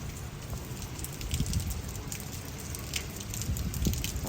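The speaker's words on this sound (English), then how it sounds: "It's raining out here right now" Steady rain falls outside around a parked 2015 Ford Mustang, a continuous broadband hiss with scattered drip patter, fairly close and unbroken, with no voices.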